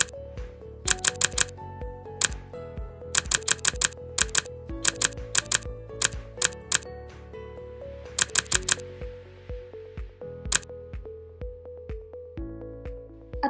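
Fingers type on a computer keyboard in close, quick bursts of clicking keystrokes with short pauses between the runs.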